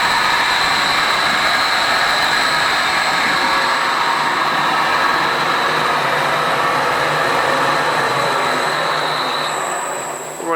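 A belt-driven 25 gallon Breddo Likwifier mixer running at about two-thirds of maximum speed, a loud steady mechanical roar with high whining tones and a dense rattle, holding constant before easing off at the end, with no voices.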